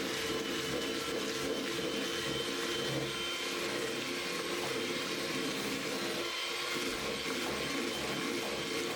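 Fairy cake batter is mixed after an egg goes in, giving a steady, unbroken whirring drone that holds at an even level throughout.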